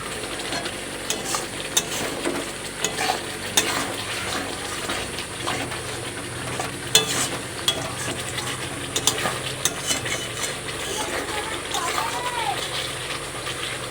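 Meat sautés slowly in a pan with a continuous sizzle and frequent scraping stir strokes, and a voice is heard now and then over the cooking.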